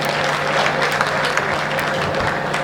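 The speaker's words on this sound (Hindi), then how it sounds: "ताली एक बार ढंग ढंग की बजाओ यार" A crowd claps at a Hindi comedy poetry show, a short burst of steady, fairly loud applause for under three seconds, with no clear talking over it.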